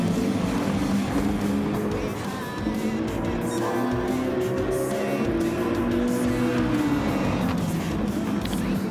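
A racing Audi in Gran Turismo 7 roars continuously at high revs, its engine pitch climbing and dropping through gear changes as it is driven hard on track.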